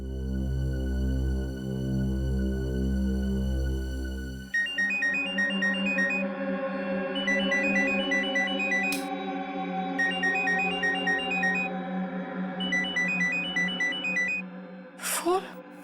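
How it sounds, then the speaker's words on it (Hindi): A mobile phone ringtone plays in a crime-drama scene, a repeating bright electronic melody looping for several seconds after a stretch of sustained music, with voices around it. "फोन? किसका फोन है?"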